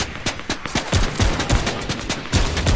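Rapid gunfire in Fortnite crackles in quick uneven bursts, sharp close shots overlapping with a few heavier cracks through the whole stretch, with no talking over it.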